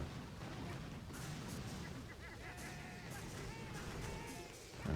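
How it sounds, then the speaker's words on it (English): Boom cannons fire in the mobile strategy game Boom Beach during a base attack, with repeated booming shots and bursts layered in a dense, continuous battle din and no talking. "We do have the energy, though, to shock the boom cannons,"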